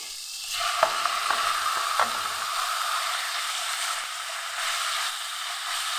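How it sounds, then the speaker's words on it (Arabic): Chicken pieces drop into hot oil with sautéed garlic, setting off a loud, steady sizzle with a few sharp clatters of stirring early on, continuing as a dense hiss throughout. "بعد ما شوحت الثوم ريحته طلعت، هنزل بقطع الفراخ بتاعتي"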